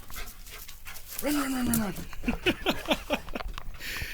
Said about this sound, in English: He's such a beautiful dog.